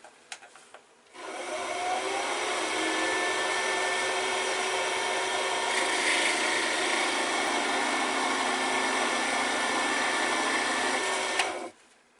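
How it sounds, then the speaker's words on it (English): A high-speed wood lathe spins as a tool is pressed against the turning piece to burn a mark into the rim of a snowman pen's hat. The whine and rubbing friction hold steady for about ten seconds, then stop. "we just get a high speed on the lathe, quite high, and we're just going to touch that on until it starts burning"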